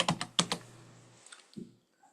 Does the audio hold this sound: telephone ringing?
no